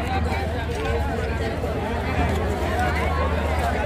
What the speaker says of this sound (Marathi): मंदिर परिसरात आल्यानंतर गर्दी आहे भरपूर.